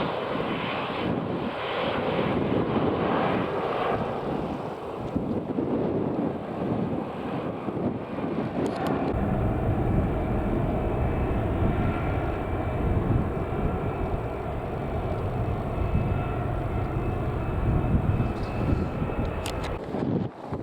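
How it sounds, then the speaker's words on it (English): A TUI Boeing 737 MAX 8 airliner coming in to land at Manchester Airport, its engine roar loud and steady for the whole stretch, thickening into a heavier low rumble partway through, with wind buffeting the microphone. "Right, coming into land now is a TUI 737 MAX 8."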